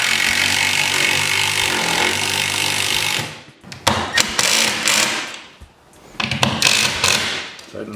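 Power drill boring a mounting hole for an Epson Pro Cinema G6550WU projector mount, a loud sustained whine and grind that cuts off sharply, then scattered clunks, rattles and knocks close by.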